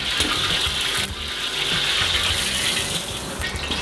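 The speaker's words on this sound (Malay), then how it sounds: "saya bubuh minyak banyak. tuang banyak. Lepas tu saya tuang balik." Cooking oil pours in a steady, splashy stream into a wok while frying rice and lamb, with a loud, close liquid gurgle running throughout.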